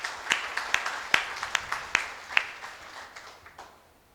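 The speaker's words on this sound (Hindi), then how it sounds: "तो सभी के लिए एक जोरदार ताली तो हो ही सकती है।" An audience at a reception program for a Jivan Vidya introduction camp claps in a string of sharp, separate claps that thin out and fade over about four seconds.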